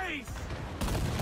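Ship cannon volley in the naval combat of Assassin's Creed IV Black Flag: a loud, dense burst of booming fire that swells sharply partway through, with a voice speaking over it.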